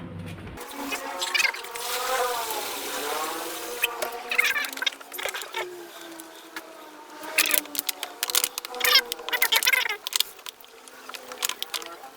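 Homegrown mung bean sprouts on their third day being rinsed in water, with steady splashing, swishing and dripping that turns more choppy and irregular toward the end, close up, with no talk over it.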